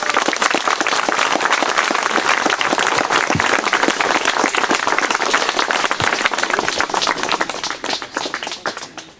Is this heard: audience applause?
yes